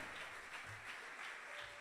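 Congregation at a church sermon applauding, a steady diffuse wash of clapping from a crowd, moderately quiet and continuous throughout with no voices over it.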